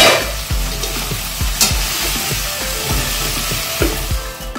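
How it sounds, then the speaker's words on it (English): Chopped okra is stirred as it fries in a pan over a medium flame: a loud, steady sizzle broken by repeated scraping and clacking strokes of the spatula, close up, with no voices. "continue stirring gently"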